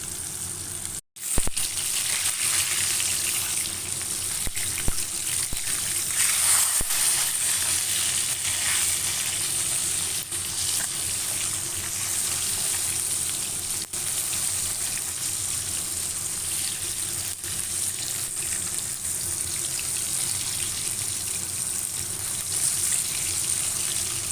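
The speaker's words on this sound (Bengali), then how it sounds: "একটা মাছও কিন্তু লাগেনি, দেখো সব মাছগুলো কত সুন্দর করে ভাজা হয়েছে" Salted fish pieces fry in hot oil with a loud, steady sizzle and crackle that runs unbroken for the whole stretch, close up and with no voices.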